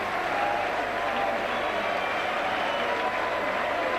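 Supporters at a Leeds vs Workington Town rugby league match at Headingley applaud in a steady, distant crowd wash of clapping, with a commentator talking over it.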